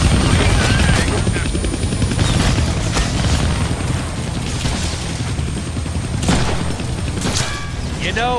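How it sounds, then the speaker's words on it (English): Helicopter from the Deadpool video game flying close and loud, a dense continuous rotor roar with sharp bursts like gunfire and impacts cutting in through the stretch. "I can't kill that chopper with my guns, but I can scare him."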